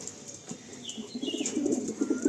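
Pigeons in a loft give soft, throaty coos close by, repeating and building over a faint bed of background chatter and rustling.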